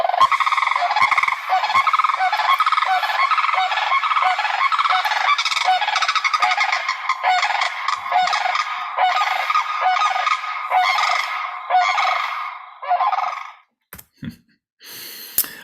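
Sandhill cranes trumpeting near a wildlife refuge in New York, a dense chorus of loud rolling, bugling calls overlapping continuously for several seconds before breaking off into silence with a few faint knocks.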